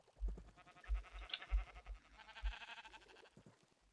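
Sheep in Minecraft bleat in a quick run of short, wavering calls, several overlapping bleats heard close and clear over a faint background.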